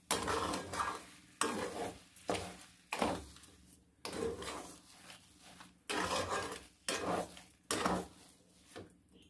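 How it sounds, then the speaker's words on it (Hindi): A spoon scrapes and stirs in a pan as sugar is mixed into roasted semolina and grated carrot for laddoos, in repeated rhythmic strokes with light metallic clatter, close and fairly quiet. "अब मैं चीनी डालूंगी। इसे भी अच्छी तरह से मिक्स कर लूंगी।"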